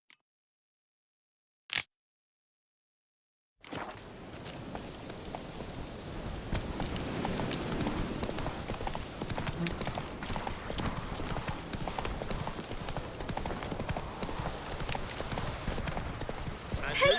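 Horse hooves galloping in The Witcher 3: Wild Hunt, a fast steady clip-clop beginning after a couple of isolated clicks and short silence, then continuing close and even under the game's ambient background.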